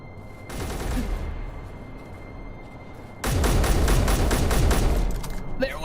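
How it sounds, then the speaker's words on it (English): Rapid automatic gunfire rattles in a firefight in the game Space Engineers, with a short burst early on and then a louder, sustained volley for about two seconds. "There was a firefight!"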